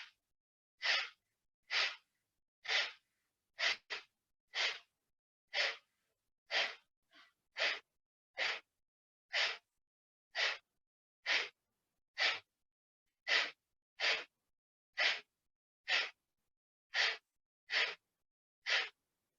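Forceful diaphragm-driven exhales from a breathing exercise, about twenty sharp, loud bursts of breath in a steady rhythm roughly one per second, close and alone with silence between.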